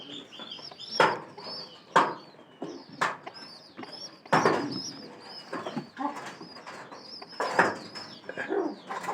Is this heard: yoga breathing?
no